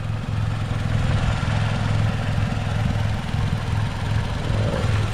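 A cleaned-up Chevrolet Cavalier LS Sport engine idles steadily and close by, a continuous low rumble with an even, unbroken throb and no voices over it.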